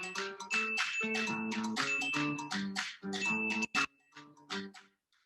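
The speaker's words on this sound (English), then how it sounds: "Not even a hero would be distracted by the ping of a cell phone, right?" Cell phone notification pings, a run of bright chiming tones and dings repeating over several seconds, clear and close with brief gaps near the end.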